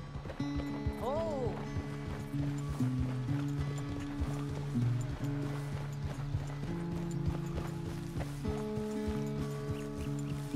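Horse galloping in the video game Red Dead Redemption 2: steady rhythmic hoofbeats under a sustained musical score, with a brief whinny early on and people talking throughout.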